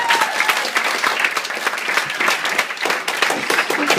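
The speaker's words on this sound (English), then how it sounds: "a round of applause if we can for Tony" Warm, sustained applause from wedding guests during a speech, many hands clapping together at close range for the whole stretch.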